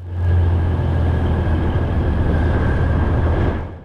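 A cheap Indonesian passenger train runs near Jakarta, giving a steady loud rumble and clatter of wheels on track with continuous low roar from start to finish.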